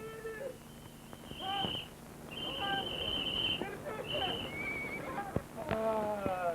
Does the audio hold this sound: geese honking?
no